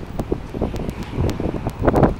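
Strong gusty wind blowing outdoors around a large gate at a building site, a steady broadband rush with louder buffeting gusts into the microphone and no voices.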